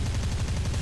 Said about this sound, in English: Use machine guns and cannons to destroy the truck.